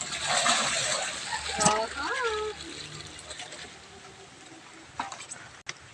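Water sloshes and splashes in a basin carried by hand up on a rooftop, with short irregular splatters and trickles. People talk over the faint liquid noise.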